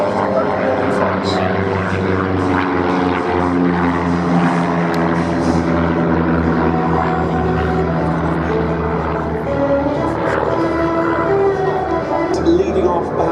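A B-17G Flying Fortress warbird at the Duxford air festival, its piston propeller engines giving a loud, steady multi-engine drone with layered harmonic hum throughout, while a commentator's voice sounds over it.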